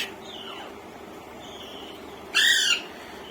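Rescued baby budgie parrots beg for food from inside a cage with thin, rising chirps, then a louder, harsher squawking burst near the end, heard close against a quiet room.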